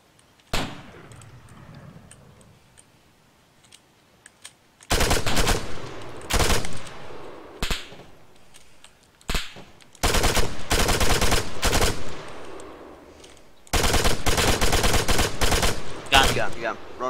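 Gunfire in the video game Arma 3 comes in sharp single shots and long loud automatic bursts, separated by quieter stretches of background ambience.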